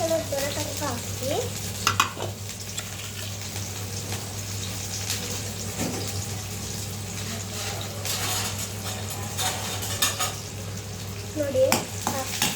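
Onions sizzle in hot oil for gobi manchurian, a loud, continuous frying hiss broken by repeated scraping stirs of a spoon against the pan, close up, over a low steady hum.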